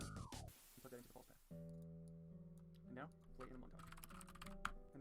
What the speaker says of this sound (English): I can hear his keyboard